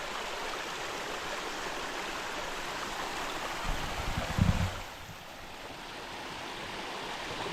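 At a water-collection spot on a stream near Hawagala during a night camping trip, running water rushes in a constant, even wash. A brief low knock of handling sounds rises partway through.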